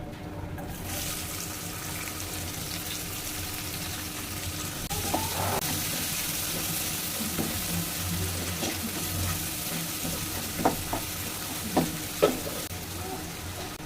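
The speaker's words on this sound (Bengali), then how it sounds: "আমি একটু জিরার ফোড়ন দিয়ে দিলাম, একটা তেজপাতা এভাবে আমি চিড়ে দিয়ে দিলাম। দিয়ে দিব পেঁয়াজ কুচি।" Chopped onion frying with cumin and a bay leaf in a pan for a pangasius fish recipe, a steady moderate sizzle with occasional stirring knocks, no talking.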